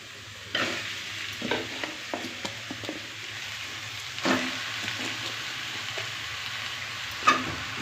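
Chicken, half a kilo, frying with masala and dried red chillies in a pan for Pallipalayam chicken curry, a steady soft sizzle with intermittent scraping stirs and clinks of a spatula, close and moderately quiet.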